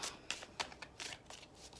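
Tarot cards riffle and slap together in quick, uneven bursts during a shuffle, up close and fairly quiet with no talking.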